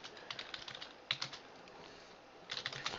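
Quick, fairly quiet keystrokes tap on a computer keyboard in two short flurries with a brief lull between them, close by and without talk.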